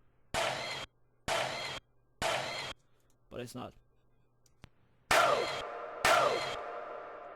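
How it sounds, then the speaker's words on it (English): A crowd-clapping sample drenched in heavy reverb snaps like a camera shutter in an FL Studio beat, landing as several sharp bursts with long echoing tails, with a brief spoken remark in between. "It's really just some clapping, and it sounds like a camera, like just shooting off a picture."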